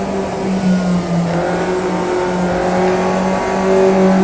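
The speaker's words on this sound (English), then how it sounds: "5th gear round here, just turn in, and I'd like to jump on the brakes and down into 4th." A car with a steady engine drone under load, close and loud from inside, as it is braked and shifted down from fifth into fourth gear on a track, engine pitch dipping and rising.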